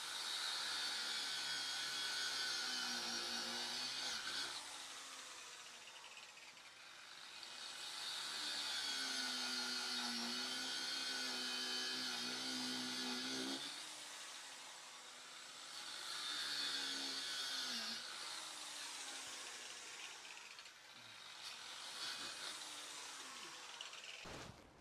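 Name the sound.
angle grinder cutting geotextile roll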